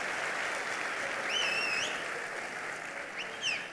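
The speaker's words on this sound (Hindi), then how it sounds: "ताली बजाना है तो प्रॉपरली सब लोग ताली बजाओ," An audience at a product launch event claps steadily and fairly faintly for a few seconds, with occasional high whistle-like tones above the applause and no speech.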